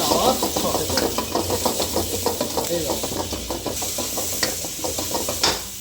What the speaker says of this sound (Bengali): চিকেনটা অ্যাড করে আবার সতে করে দেবো।